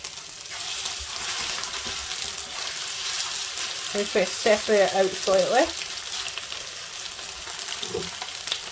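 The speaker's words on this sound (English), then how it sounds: "So you are shallow frying this essentially." Chicken sizzles in shallow oil, a steady crackling hiss throughout, with a person speaking briefly in the middle.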